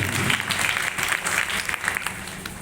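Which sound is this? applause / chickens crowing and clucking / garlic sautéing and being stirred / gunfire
applause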